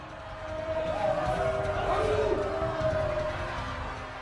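A large mob of more than 20,000 approaching, a sustained roar of many voices at moderate distance that swells slightly and stays steady, with faint shouts.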